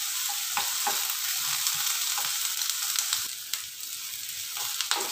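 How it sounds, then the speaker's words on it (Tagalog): Onion and garlic sizzle steadily in a hot pan for eggplant adobo, a dense continuous frying hiss with occasional stirring scrapes and no talk. "dito sa gilid, ilagay natin yung ating sibuyas. Para maluto sila ng sabay."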